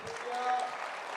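An audience claps together in a brief burst of dense applause, steady and moderately close, swelling slightly in the middle.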